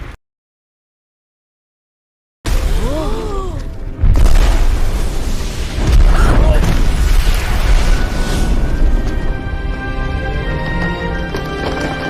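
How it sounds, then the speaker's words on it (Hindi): Cartoon firecrackers go off in a burst of loud booms and crackles after a silent opening, with a whistling rise before the blasts and sustained noisy bangs continuing to the end. "तुम पटाखे इस्तेमाल कर रहे हो?"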